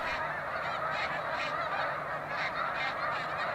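A dense flock of greater snow geese at Baie-du-Fèvre on Lac Saint-Pierre keeps up a loud, continuous chorus of overlapping honks, with no gaps and no other sounds.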